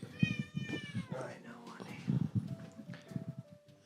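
A pet cat named Kirby meows repeatedly close to the microphone, a few drawn-out wavering cries mixed with people talking over it.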